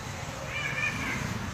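A cat at a market stall selling pork and chicken gives one drawn-out, faint meow, heard against steady market background noise.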